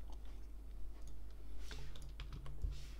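Rapid keystrokes on a computer keyboard, a light clattering run of clicks close by over a low steady hum, with no voices.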